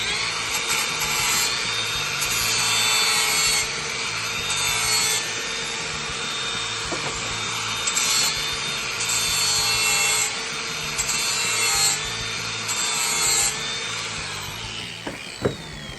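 Steady scraping and filing on a pipe end to clean off the burr, continuous rhythmic rasping strokes close up with a few louder surges, no talking.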